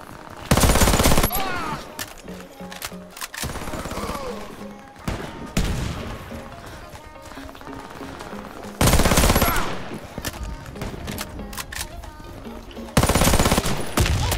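Uzi Pro submachine gun fire in a video game, rapid automatic bursts coming in loud, dense stretches with gaps between them over game music and effects.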